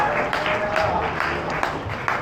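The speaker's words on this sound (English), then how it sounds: "give them a big round of applause" An audience at a magic show at Silver Dollar City claps in a dense, steady burst of applause that fills the whole moment, close and fairly loud.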